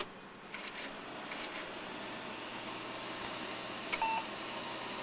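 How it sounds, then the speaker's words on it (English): Power-on beep code from a trashpicked RB Computing tower PC, a single short electronic beep rising briefly over a steady fan and air hum, close by with no talking. "Beep code."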